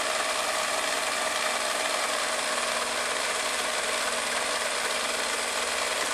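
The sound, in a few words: long-arm quilting machine stitching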